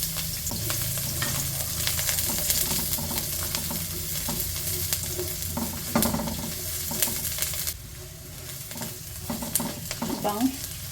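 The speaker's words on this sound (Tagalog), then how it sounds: "Tayo po ay magigisa na. Yes. Lalagay na po natin yung sibuyas." Onions sautéing in a hot pan for a Filipino garlic tofu and kangkong stir fry, a steady close sizzle with stirring and scraping throughout, the frying noise dropping slightly near the end.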